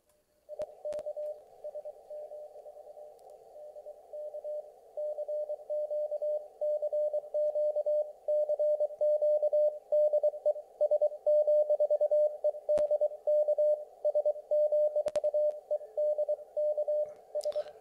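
Continuous CW Morse code tone received on a ham radio through a SmartSDR software-defined radio, a steady keyed beep in a narrow band with fast rhythmic dits and dahs, loud and alone with a few clicks.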